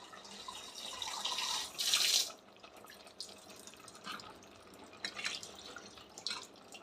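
Water splashes into a pot of village-style mutton gravy in a brief, bright pour, followed by faint trickles and light drips against a quiet kitchen background.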